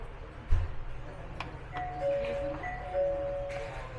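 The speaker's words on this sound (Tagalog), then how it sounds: "i-ring na natin yung bell" A restaurant call bell at a small hidden Japanese eatery: a thump, then a few bright metallic dings with lingering ring, set against quiet room ambience.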